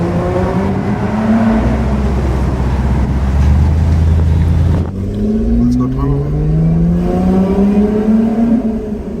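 A Lotus Evora 400 sports car engine revs hard, its pitch climbing under throttle, drops briefly, then rises again in a second loud surge, close by.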